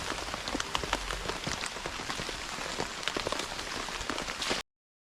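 Steady rain patters on surfaces around a bushcraft camp, a dense, continuous hiss of drops with scattered louder individual splashes close by, no voices.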